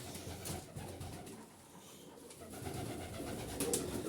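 Pigeons coo softly and repeatedly in a close, enclosed loft, their low throaty calls overlapping amid a rustling background.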